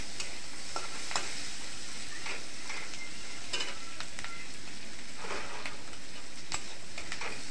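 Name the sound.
green chillies and cumin seeds frying in oil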